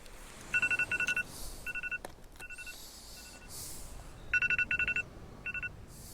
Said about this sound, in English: And that's my alarm going off.